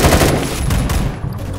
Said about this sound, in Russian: сайга кайфовая пушка, мне всегда она нравилась